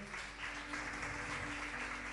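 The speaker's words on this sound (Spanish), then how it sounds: "fuerte aplauso al Señor" A church congregation claps in praise to the Lord, a soft, continuous patter of applause heard from a distance at low level, steady throughout with a faint hum underneath.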